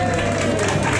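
Comedy club audience in Hurst clapping and cheering in a brief, dense burst of applause, loud and steady throughout.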